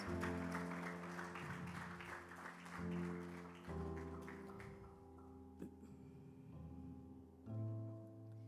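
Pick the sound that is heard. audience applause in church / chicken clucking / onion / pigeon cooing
audience applause in church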